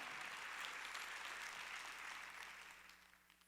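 A congregation at a Wednesday church service claps together, making a dense, even burst of applause that slowly fades out over a few seconds.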